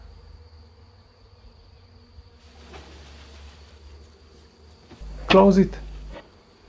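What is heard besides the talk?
honey bee swarm buzzing in a small beehive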